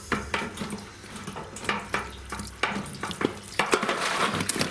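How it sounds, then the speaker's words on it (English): Sediment-laden water drains from the open end of a radial flow filter pipe in an aquaponic system, a steady splashing gush punctuated by irregular sloshes and drips, close and moderately loud with no talking. "So the next thing to do is basically drain out all this crud."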